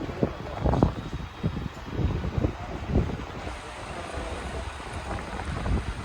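Sulphur-rich water flowing in a river at the Tbilisi sulphur baths makes a steady broadband rush, mixed with low wind buffeting against the microphone throughout.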